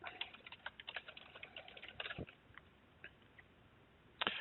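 Fingers type a password on a computer keyboard in a quick, uneven run of light, close keystrokes, finished with one firmer key press.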